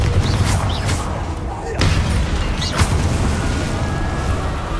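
Confringo blasting spell in Hogwarts Legacy, game explosion booms and bursts over continuous loud game ambience and music, with a couple of sharp impacts, while a voice speaks over the action.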